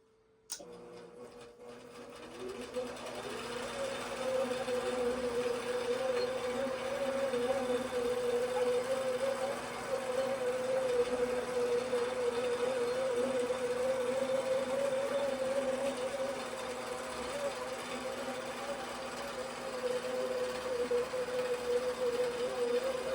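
A longarm quilting machine stitches automatically under Quilt Path computer control, its steady mechanical hum and rapid needle chatter running evenly after a short start-up click, close and unbroken, with no talking.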